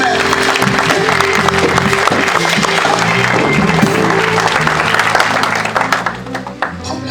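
A church congregation at a gathering applauds and cheers loudly for the Lord, a dense wash of clapping and voices that trails off near the end.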